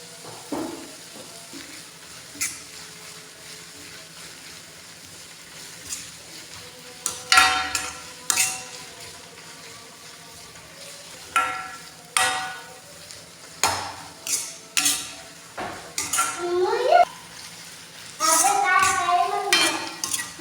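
Garlic, ginger and cumin paste fry in oil with onion for a bitter gourd dish, a low sizzle under repeated metallic clinks and scrapes of a spoon against the pan, irregular and close, with no talk.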